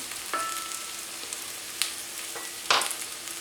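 Roasted minced meat added to a pan of dried eggplant dish, with a steady sizzle and a few sharp spoon taps against the pan.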